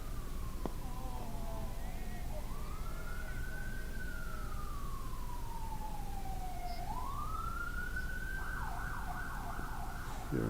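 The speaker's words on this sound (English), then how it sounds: "Here are the sirens in the background." A single emergency vehicle siren near a hospital sounds in the background at a cricket ground in Barbados. It slowly wails up and down, then switches to a faster yelp, over a steady low outdoor rumble.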